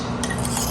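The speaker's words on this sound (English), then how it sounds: "Give it a good stir." A spoon scrapes and stirs through chicken breasts coated in buffalo sauce in a pan, a short close burst of wet rubbing with a faint clink near the end.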